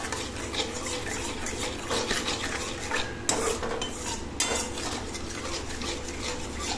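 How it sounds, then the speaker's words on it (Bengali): Cumin seeds and a little sugar sizzle in hot oil, a steady frying hiss broken by a spoon stirring and two sharp clinks against the pan. "তো দেখো তেলের মধ্যে দিয়ে দিলাম জিরে, সামান্য পরিমাণে চিনি দিয়ে দিলাম"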